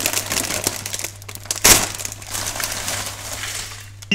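A bag of Doritos tortilla chips is torn open in a kitchen, giving a short crinkly plastic crackle and one sharp tearing burst partway through, with faint rustling of the bag around it.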